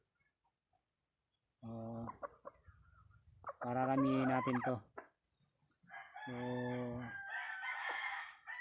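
Chickens cluck and a rooster crows close by, in loud separate calls with quiet gaps between them, and someone talks between the bird sounds.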